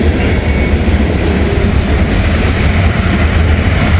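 A train rolls by close to the track, a loud continuous roar of passing cars with rhythmic wheel clatter and a hint of squeal, sustained throughout without voices.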